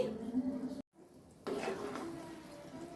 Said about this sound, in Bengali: একটু মিক্সড করে নিচ্ছি রান্নাটা